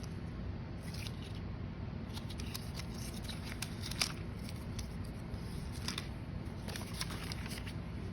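Scissors snip tea-dyed notebook paper in short, quiet bursts of light crisp cuts, spaced irregularly over a soft background hiss in a crafting room.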